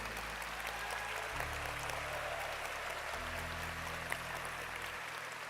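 A crowd at the 2023 Pokémon World Championships finals in Yokohama, Japan applauds the Pokémon TCG trainers. The clapping is steady, continuous and distant-sounding, with low sustained music tones underneath.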